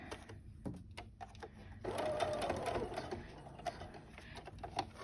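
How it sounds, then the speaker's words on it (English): Sewing machine top-stitching around the edge of a fabric face mask, a fast continuous mechanical whir with rapid needle ticks, close and soft, with a voice in the background. "you're going to do a top stitch all the way around the mask"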